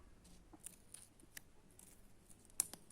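A shopping package is opened up close, with faint scattered crinkles, snips and sharp little clicks in an otherwise quiet room.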